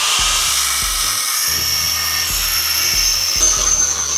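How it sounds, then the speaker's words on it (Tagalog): An angle grinder fitted with a cutting disc cuts into a wheel spacer for an MR2 wheelset, a loud, close, high-pitched whine with a sustained grinding screech and slight pulsing in pitch, no voices over it. "ready na rin yung grinder ko na may cutting disc na bala"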